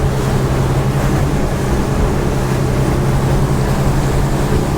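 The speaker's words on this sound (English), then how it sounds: "So I'm actually just going to straighten the boat up and I'm going to go through these waves." A motorboat running at about 27 knots punches head on through ocean waves, with a steady loud engine drone, rushing water and wind noise throughout, no voices.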